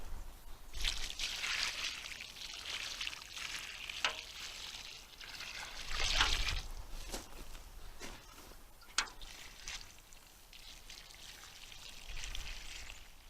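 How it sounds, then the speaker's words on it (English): Water splashes and trickles onto newly potted privet and magnolia plants, an uneven pouring hiss rising and falling in bursts with occasional small knocks, close by and without talk. "And then give them a good water."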